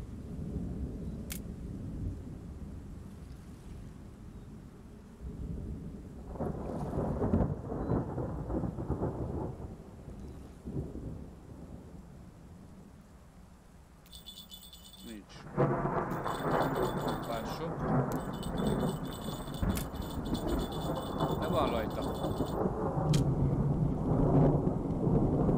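Deep rolling thunder rumbles over falling rain in the Russian Fishing 4 fishing game, swelling in long waves and growing louder in the second half, with some speech and game sounds mixed in.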